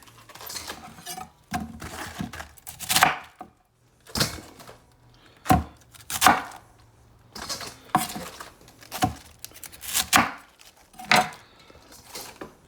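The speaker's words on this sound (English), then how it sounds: "Peel all the crappy outer leaves off, core them, and quarter them." A knife cuts through organic garden cabbage on a board for sauerkraut, a series of sharp, irregular chopping and crunching strikes separated by short pauses, close and fairly loud, with no talking.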